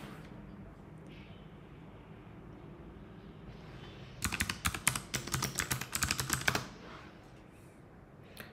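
Bursts of fast key presses on a computer keyboard while a password is entered to log in to a server over SSH, a dense clatter of keystrokes for a couple of seconds over quiet room hum.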